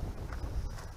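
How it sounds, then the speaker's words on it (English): Wind gusts buffet the microphone outdoors on a farm ahead of an incoming storm, making a low, rumbling roar with irregular rustling bursts. "A little windy, a storm coming in"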